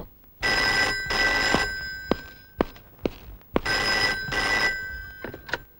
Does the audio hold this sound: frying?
no